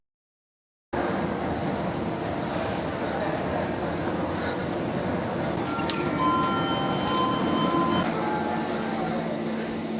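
Steady rumbling of a train at a station in Rennes, France, with continuous mechanical noise, a sharp metallic clank partway through and faint tonal squeals over the din.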